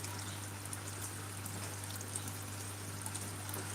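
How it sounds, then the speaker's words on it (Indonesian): Steady soft trickle of water running out of a PVC pipe into a guppy pond in a circulation system, faint and continuous over a constant low electrical hum. "airnya nanti akan keluar melalui pipa paralon yang ada di sini"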